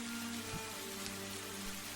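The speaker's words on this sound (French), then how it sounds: "Il pleut." Steady rain falls on a surface with a soft, continuous patter and a few louder drops, fairly quiet and even, with no voices over it.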